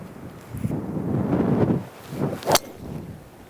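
Wind blows across an open golf course during a stormy match, a rushing, buffeting gust that swells over a couple of seconds with rumbling microphone noise, then eases off.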